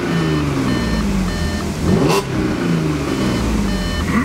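An Audi S4 with its exhaust revving: a steady engine drone throughout, with one sharper rev surge around the middle, fairly close and loud.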